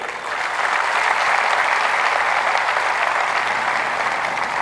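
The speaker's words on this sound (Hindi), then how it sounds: "उनके लिए एक जबरदस्त ताली हो जाए" An audience at an all-India conference in New Delhi breaks into loud, sustained applause that swells quickly and holds at a dense, even roar.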